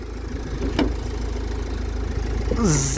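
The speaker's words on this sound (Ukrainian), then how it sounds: "Двигун працює чудово" A 2010 Renault Koleos with a 2.0 dCi diesel engine idles with a steady, even rumble throughout, and a brief click and a short rising tone appear near the end.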